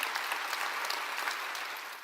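A congregation breaks into steady, dense applause during a Korean church sermon, with clapping that continues at an even level and then gradually fades.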